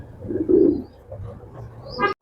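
Racing pigeons coo in a low, rumbling burst near the middle, with softer murmurs around it and a brief higher call or toot near the end.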